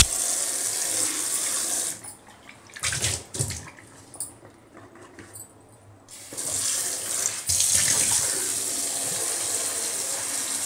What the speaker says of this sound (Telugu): దాంట్లో సాల్ట్ వేసుకొని ఇప్పుడు కడిగేసుకోవాలా దాన్ని వాటర్తో.